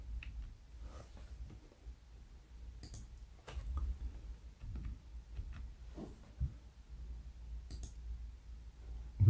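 Scattered mouse clicks while working in an Excel spreadsheet, a few sharp taps spread irregularly over a quiet low room hum, fairly soft and close.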